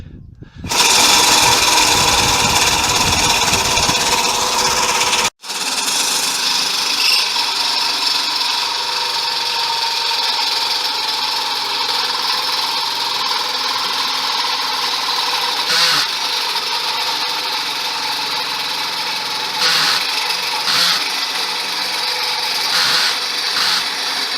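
A hole saw spinning on an arbor bites into a metal tube to cut a notch, a loud, steady whining grind with a brief cutoff near the start, then a continuous drone with occasional scraping surges.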